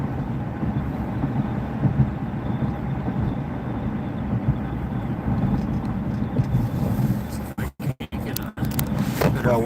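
A freight train with Conrail auto rack cars passing, a steady low rumble of rolling wheels and rail noise at moderate distance, with brief dropouts and scraping near the end.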